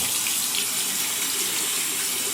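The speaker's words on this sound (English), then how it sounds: "just put some warm water on it" Warm water runs from a tap onto a shaving brush, a steady, full hiss of flowing water that continues without a break and with no voices present.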